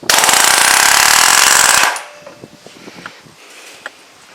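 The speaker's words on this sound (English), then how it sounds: "We'll see if it drives that for us. So just pop it in there, held in magnetically," Grip Rite GRTMP16 mini air nailer firing a rusty nail into wood: a loud, dense rattling burst of under two seconds, then a few faint clicks and handling taps.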